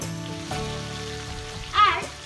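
Spring onion sizzles as it hits hot oil in a wok, a steady close crackle with a brief louder hiss burst near the end over soft sustained background tones.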